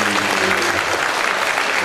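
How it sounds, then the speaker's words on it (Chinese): Loud, dense clapping from a crowd after a cosplay contest stage performance, continuous and close, with faint voices mixed into the applause. "掌声鼓励鼓励。"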